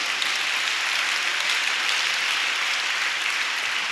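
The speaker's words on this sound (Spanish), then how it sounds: "Un aplauso para nuestro Dios" A church congregation claps during a sermon on Gnosticism, a steady dense wash of hand claps that holds at even loudness for the whole stretch with no voices over it.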